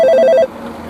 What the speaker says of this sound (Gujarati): આ જો આ ફોન આવ્યો પાછો